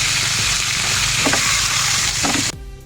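Carne (meat) frying in oil in a wok, a loud dense sizzle with a couple of stir scrapes, close up, cutting off abruptly near the end with no talk.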